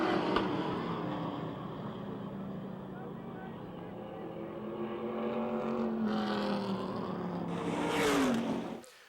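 Race cars at Motordrome Speedway roar toward the checkered flag in a close battle, a continuous loud engine drone rising near the end as cars sweep past, with an announcer talking over it.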